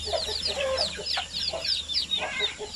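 Zampen, Basilan and Shamo Aseel chickens cluck repeatedly in short, choppy bursts close by, with several birds calling over one another against a low background hum.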